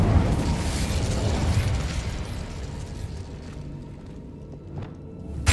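A fiery Incendio spell blast cast in Hogwarts Legacy, a loud, broad whooshing burst that opens the clip and roars on before slowly fading into quieter rumble, with a small pop right at the end.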